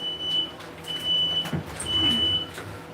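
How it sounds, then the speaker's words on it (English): A household smoke alarm sounds a high, steady electronic tone in repeated long beeps, fairly loud over a quiet room hum. "That is a good smoke detector because nothing's on fire."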